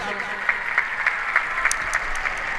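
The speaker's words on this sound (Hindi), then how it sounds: "इसके लिए मैं जोरदार ताली आप सबसे चाहूंगी।" Steady crowd applause with scattered sharp claps fills the whole stretch at a rural Olympic sports event in Rajgarh, Rajasthan, with a faint voice faintly underneath.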